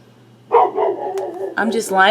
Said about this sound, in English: Sorry for my dog, she's outside.